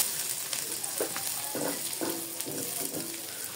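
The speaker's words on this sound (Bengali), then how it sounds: "এখন এই তেলে আমি শুটকিগুলোকে সুন্দর করে হালকা করে ভেজে নিচ্ছি।" Dried fish (shutki) frying lightly in hot oil in a pan, a steady close sizzle with intermittent crackles and stirring scrapes throughout.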